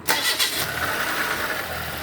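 A 2007 Nissan Wingroad with a QG15DE engine, running rich with a fast idle, catches with a quick start burst and then settles into a loud, steady idle close by.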